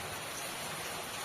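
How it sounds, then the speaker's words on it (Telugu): Steady drizzling rain falls in a village as dusk comes on, a continuous soft hiss with no other sounds or voices. "ముసురు వాన."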